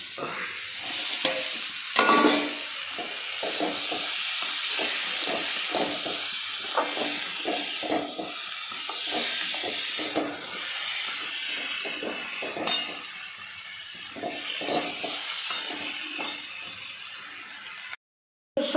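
Cauliflower florets frying in a hot pan for a cauliflower and potato curry, a steady loud sizzle with repeated stirring scrapes throughout, no talking.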